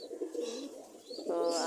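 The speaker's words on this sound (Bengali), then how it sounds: "এটা হচ্ছে সিরাজি কবুতর, মাশাআল্লাহ, দেখতে কিন্তু অনেক সুন্দর।" A Sirazi pigeon gives a short, soft, rolling coo close by, a low throaty burble that rises into a brighter warble at the end.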